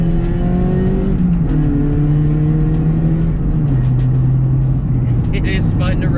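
A warmed-up Acura Integra GSR with a B-series engine pulls hard through the gears from inside the car, its revs climbing and dropping in steady steps under loud road and engine noise. A person talks briefly.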